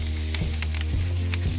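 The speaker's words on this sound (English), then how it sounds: "we're going to press the steak onto the grill" Steak sizzling hard on a hot Big Green Egg grill as it is pressed down, a steady close crackle and hiss with low humming tones and a few brief scrapes and clicks.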